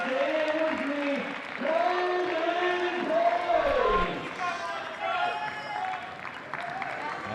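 Crowd noise at a Major League Table Tennis match between Florida and Chicago, with people cheering, chanting and shouting in a rising, rhythmic swell, all of it loud and close across the arena.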